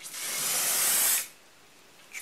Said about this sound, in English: I'm going to apply the heat protectant spray